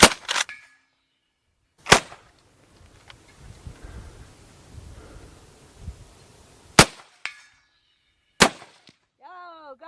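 A lever-action gun fired at a 2-litre soda bottle target outdoors: four sharp, loud cracks spaced a few seconds apart, with quiet rustling in between and a brief voice near the end.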